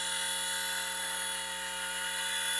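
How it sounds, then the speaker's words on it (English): A small model helicopter whines steadily at close range in windy conditions, its high-pitched motor and rotor buzz holding constant throughout. "You shouldn't be flying this sort of helicopter in the wind"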